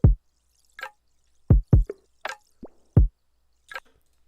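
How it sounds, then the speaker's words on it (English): A gated recording of dripping water yields sparse, sharp drips and plops at irregular intervals, each cut off abruptly into silence, close and dry with no other sounds. "And then this is a recording of Water"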